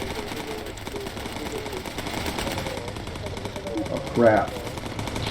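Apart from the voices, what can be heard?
aircraft machine gun fire in the video game Bomber Crew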